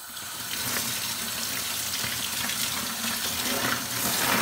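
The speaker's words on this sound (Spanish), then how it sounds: "Vamos a lavar ahora los caracoles." Snails are rinsed under a running kitchen tap to clean them before precooking, with a steady, close rush of water splashing over the shells for a few seconds.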